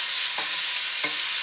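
Onions fry on high heat in a pan with a constant close hiss, broken by two soft stirring scrapes.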